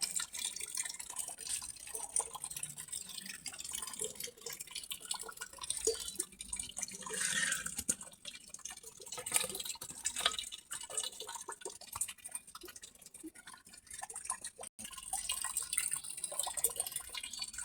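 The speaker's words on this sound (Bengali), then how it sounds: "লবণ দিয়ে এখন ধুয়ে নেবো ভালো করে" Koi fish being rubbed with salt and washed in water, a faint, irregular run of wet drips, splashes and sloshing handled up close, with no voices.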